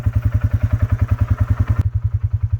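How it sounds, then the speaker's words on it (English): A 2019 Polaris Sportsman 570 utility four-wheel-drive four-wheeler engine chugs close by in a steady, rapid low pulse, with a brief brighter clatter over it before it settles to the plain throb. "a Polaris 2019 Sportsman 570, just a pretty much your basic utility four-wheel drive four-wheeler"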